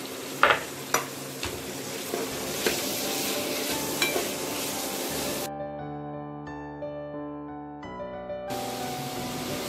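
Vegetables sauté in a hot pan for wheat momo filling, giving a steady close sizzle broken by scraping stirs and a few sharp knocks, then a short stretch of quiet before the frying resumes.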